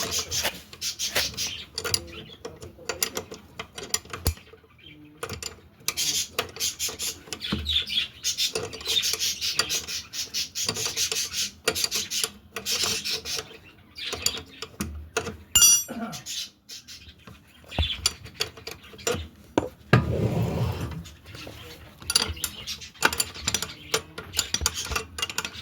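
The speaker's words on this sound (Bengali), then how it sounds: "আজকে চাকাটা কীভাবে টাইট করি সেটা আজকে দেখালাম" Metal tools working on the wheel of a Honda Dio BS6 scooter, with scattered clicks, scrapes and ratcheting taps, close and uneven over a long stretch with occasional background noise.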